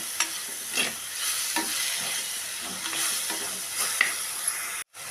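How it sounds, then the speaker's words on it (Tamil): Two medium tomatoes, finely chopped and cooking in a pan for jackfruit seed biryani, sizzle steadily with repeated stirring scrapes. The sound cuts out briefly near the end. "இப்போ தக்காளி நல்லா வணங்கி இருக்குதுங்க"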